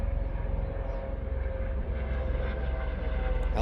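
Helicopters flying overhead, a continuous low rotor and engine drone that holds steady throughout, distant and moderately loud, with no speech.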